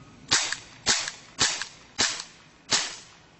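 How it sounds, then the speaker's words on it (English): An airsoft training pistol, its slide cycled by hand, giving five sharp metallic clacks at a slow, even pace, close and clear with no voices. "As you can see, the slide functions, moves, everything."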